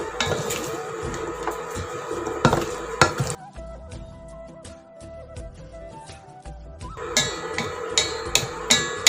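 Aviyal vegetables, including raw banana and yam, are stirred in a pot, giving loud clattering, scraping bursts at the start and end with a quieter stretch of light knocks between.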